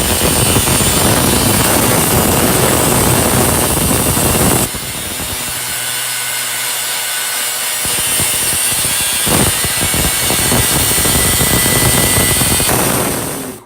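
A 1 1/4 inch sink plumbing pipe is sawn through with steady, loud back-and-forth rasping strokes, close up and continuous for most of the stretch, with a brief change in tone partway through and no talking.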